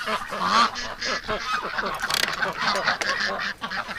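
A large flock of ducks in a yard quacks and honks in busy, overlapping bursts nearby, the calls rising and falling irregularly without a pause.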